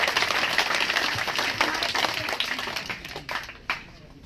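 Applause from an audience at a Gannaur constituency political gathering, a dense spread of claps that thins toward the end, heard alone with no voices over it.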